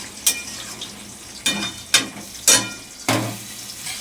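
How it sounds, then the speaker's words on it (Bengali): Meat sizzles loudly in a pan close up. Five sharp bursts of spatula scraping and stirring break through the steady frying hiss, with no talking. "এখানে মাংস হচ্ছে।"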